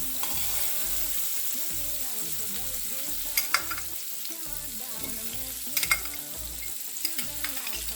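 Butter sizzles in a pan ahead of seasoned eggs: a steady frying hiss runs throughout beneath a rhythmic low musical backing, with a few sharper crackles and pops.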